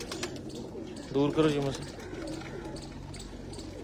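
Pigeons kept by a breeder coo softly in low, throaty bursts near the middle, with someone speaking over a steady background hum.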